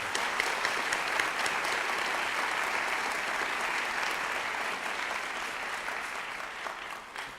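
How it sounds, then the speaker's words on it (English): A university event audience applauds its sponsors in a steady, dense round of clapping that carries on evenly for several seconds, slightly distant and fading at the end. "Let's give them a round of applause for bringing this in."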